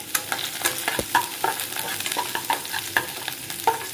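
Onion and green masala sautéing in oil beside frying fish, a close steady sizzle with brisk, regular spatula scrapes and taps against the pan, no voices.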